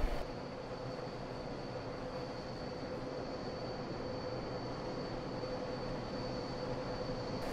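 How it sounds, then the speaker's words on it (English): A constant, even rumble of an F45-hauled AI train rolling by in Train Simulator 2021, steady and fairly loud throughout with a faint high tone above it and no talking. "F45 AI train heading westbound."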